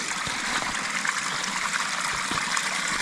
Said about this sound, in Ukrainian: водоспадик. Малечий, але гарно.